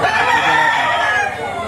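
A three-year-old rooster crows loudly and close by at a poultry sale in Lipa, Batangas, one long strained call lasting nearly two seconds.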